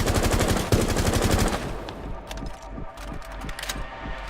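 Rapid burst-fire gunshots from a weapon in Rainbow Six Siege, loud tight volleys for about a second and a half, then scattered quieter shots and game sounds.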